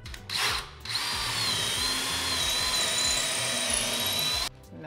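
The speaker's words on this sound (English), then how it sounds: "pre-drill a pilot hole." A power drill bores a pilot hole in a wall to mount a metal stair handrail bracket, giving a close, steady high-pitched whine that starts and stops in short bursts before running continuously for several seconds.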